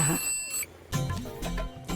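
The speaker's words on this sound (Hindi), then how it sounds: "अब देखना तेरे लिए फोन आएगा।" A telephone rings in bursts, with repeated electronic trills separated by short pauses, loud and close against a faint background.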